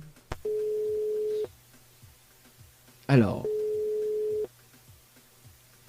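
Outgoing telephone call from a radio studio to a listener, two long steady ring tones separated by a pause, clear and close, with a brief word spoken between them.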